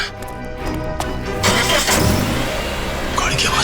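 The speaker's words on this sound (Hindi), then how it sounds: "गाड़ी की आवाज।" A car engine turns over and catches, then surges into a loud, sustained running roar, with voices and other noise underneath.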